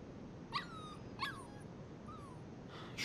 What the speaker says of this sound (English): Ready for today's training, puppy?